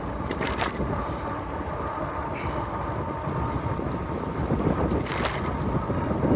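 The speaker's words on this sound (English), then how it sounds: "And the wind's picking up, so this will be interesting." Wind buffets the microphone on the Raccoon River Valley Trail between Herndon and Panora, a steady, loud, low rumbling roar with uneven gusty texture, a few faint brief ticks, and no voices for the whole stretch.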